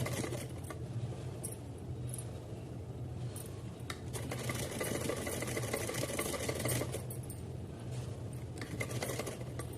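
Sewing machine running a long seam along a cotton waistband for a small deity outfit, a continuous close motor hum with rapid needle chatter and occasional light clicks, steady the whole way through.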